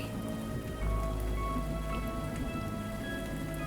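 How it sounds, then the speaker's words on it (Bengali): Cartoon rain pours steadily, a dense continuous patter of raindrops with a low rumbling bed beneath, alone and fairly loud. "বৃষ্টির প্রতিটি ফোঁটা অতীতের এক একটি মুহূর্ত কান পাতলেই শুনতে পাবে"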